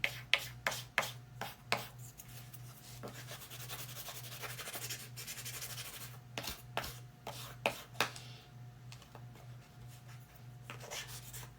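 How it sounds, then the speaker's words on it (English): Painted lettering on a snowflake craft sign being lightly sanded by hand, a soft, close scratchy rubbing in short repeated strokes over a faint steady hum, no voices. "So I'm going to just take and lightly sand my lettering."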